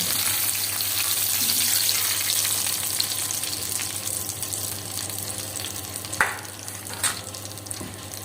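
Lightly browned garlic tempering hitting cooked daal in a village kitchen, a continuous frying sizzle with soft crackle, broken near the end by a couple of sharp clinks from the pot, no talk.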